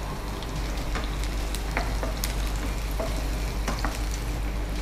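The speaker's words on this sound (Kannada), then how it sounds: "ಅದಕ್ಕೆ ಚೆನ್ನಾಗಿ ಎಣ್ಣೆಯಲ್ಲಿ ಫ್ರೈ ಆಗಬೇಕದು." Finely chopped garlic frying in oil, a steady close sizzle with scattered sharp pops and light stirring clicks, under a low constant hum and with no talk.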